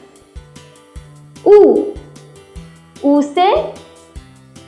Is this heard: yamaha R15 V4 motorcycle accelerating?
no